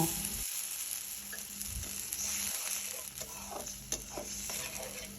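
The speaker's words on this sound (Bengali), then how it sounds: "প্রথমে কড়াইয়ে তেল দিয়ে আধা কাপ পেঁয়াজ ভেজে নেব" Half a cup of onion fries in oil in a wok with a steady, soft sizzle close by, broken by occasional light stirring scrapes and a few taps; no one talks.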